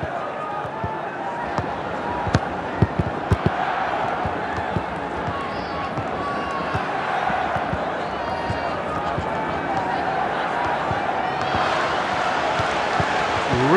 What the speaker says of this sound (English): And the crowd are well behind their team now they've got their goal.